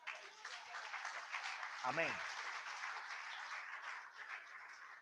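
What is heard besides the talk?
congregation applauding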